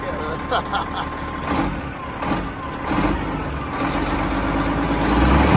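A 1993 Freightliner truck with a 12.7 diesel engine runs with a holed exhaust, giving a steady rumbling idle with faint ticking and hiss throughout, close by, under background noise.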